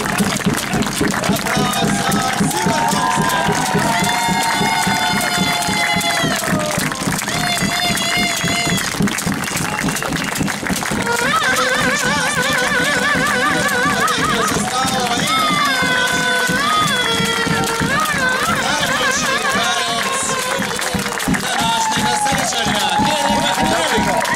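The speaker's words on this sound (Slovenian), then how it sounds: "Aplavz za Simon" A large crowd at an American football game between Ljubljana Silverhawks and Budapest Wolves applauds and cheers steadily throughout, with voices shouting and talking mixed into the continuous clapping.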